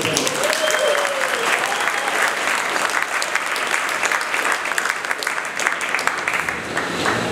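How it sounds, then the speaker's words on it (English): Audience applause welcoming Senator Penny Wong as guest speaker at a Melbourne film evening: steady, dense clapping from a full room that holds for the whole stretch, with no talk over it. "Welcome, Penny White. round of applause"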